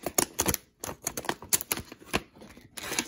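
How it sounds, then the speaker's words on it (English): Scissors snipping across the plastic of a cereal blind bag, with a series of close, crisp clicking cuts in an uneven rhythm and short pauses between strokes. "So we're just gonna cut across this line"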